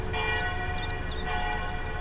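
A bus bell chimes in the OMSI 2 bus simulator aboard a D&E Coaches E200MMC, a couple of short tones ringing over a steady loud engine drone and hum.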